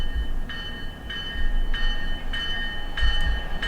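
A train sounds its horn in four separate blasts of steady, bright tone over a low rolling rumble of railcars.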